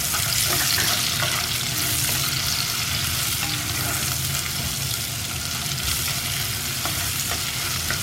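Sliced onions sizzle and are stirred in a pan while prawn biryani is being made, a constant close frying hiss with scraping stir sounds throughout.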